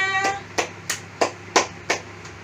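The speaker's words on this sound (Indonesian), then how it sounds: "Tepuk tangan semuanya." Students applaud in a classroom after a group presentation, a few loose hand claps landing at an uneven, slow rhythm, fairly close and modest in volume, with no talk over them.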